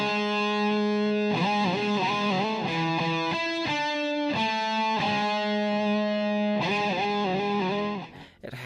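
A 2019 Gibson Les Paul reissue electric guitar played through heavy distortion, loud sustained chords and riffs ringing out continuously, with changes every second or so and a brief drop near the end.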